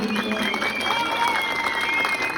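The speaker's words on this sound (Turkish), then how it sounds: "Bu da ayrı bir alkış talep ediyorum" Applause from an audience at a Refah Party mayoral candidacy rally in Artuklu, a steady wash of clapping with crowd noise and some voices mixed in, fairly loud throughout the short stretch.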